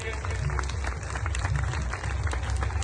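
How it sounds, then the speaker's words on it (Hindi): A crowd at the Baba Barkhandi fair in Sadhubela claps steadily in dense, continuous applause, loud and sustained throughout. "अल्लाह ताला ने जिसको भी 2 हाथ दिए हैं वो ताली बजाए बाबा बनखंडी के लिए"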